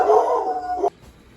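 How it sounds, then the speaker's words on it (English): Pet dogs howl indoors in one sustained, wavering cry close to the microphone, cutting off abruptly after under a second, followed by near silence. "Sorry, my doggies heard Greg get home"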